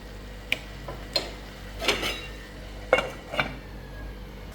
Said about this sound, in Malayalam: ഇനി നന്നായിട്ട് ഇളക്കി യോജിപ്പിക്കാം.